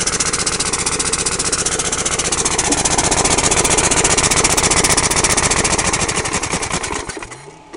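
A push mower engine running on compressed air idles loud and close with a fast, even pulsing beat, then winds down and stops near the end.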